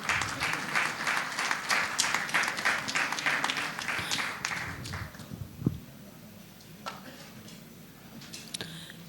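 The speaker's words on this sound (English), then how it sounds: "A big round of applause for him." Audience applause at a conference on GST litigation, dense clapping for about five seconds that thins to scattered claps and stops.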